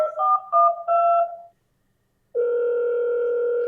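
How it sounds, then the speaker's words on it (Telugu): A toy phone sounds a few short electronic dialing beeps, then a pause, then a steady sustained dial-like tone, clear and close with no talking over it. "ఫోన్."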